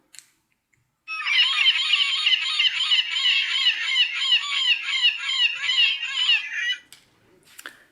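A seagull gives a long run of rapid, harsh squawking calls, close and loud, continuing for several seconds after a short silence and then stopping abruptly.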